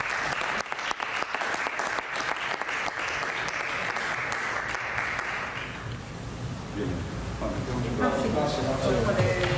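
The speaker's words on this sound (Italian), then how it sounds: "Un applauso potete farlo." Applause at a press briefing with a general: a dense crowd of hands claps continuously and fairly loudly, swelling toward the end as voices begin to murmur through it.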